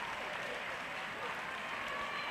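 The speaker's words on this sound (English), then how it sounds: "Flamer gets a nice hand from the crowd as Evan Fitzpatrick comes into the game to replace him." A high school boys basketball crowd in a gym gives a warm round of applause as a player leaves the game, steady dense clapping throughout with a commentator talking over it.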